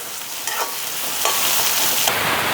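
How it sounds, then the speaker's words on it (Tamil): Soya meat idiyappam kothu sautés in oil, a loud, close, continuous hiss and sizzle broken by a few stirring scrapes, with no talking. "இப்படியே வதக்கி விடுவோம் கொஞ்சம் எண்ணெய் கூட இருந்தால் தான் நல்லா இருக்கும்"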